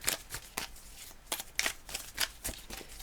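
Tarot cards shuffled by hand during a reading, a run of crisp riffling bursts and soft flicks with short pauses, close and fairly quiet, no talk over them.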